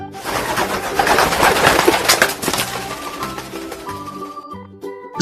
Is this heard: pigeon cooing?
yes